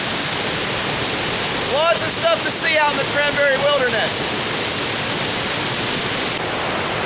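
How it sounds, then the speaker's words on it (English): A small waterfall in the Cranberry Wilderness after a swift stream crossing, its steady broadband rush loud and close throughout, with someone speaking over it partway through. "Look at that little waterfall."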